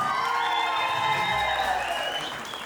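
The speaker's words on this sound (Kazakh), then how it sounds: "Данияр көкемді жақсы танитын қонақтар шапалақ соқсын." Guests at a circumcision celebration break into applause, a dense burst of clapping that fills the room and fades toward the end, with some faint voices mixed in.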